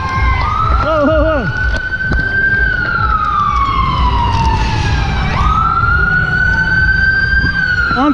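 An ambulance siren wails loudly nearby during a Halloween Critical Mass bike ride in San Francisco, with a few quick yelps followed by long rising and falling sweeps over street noise.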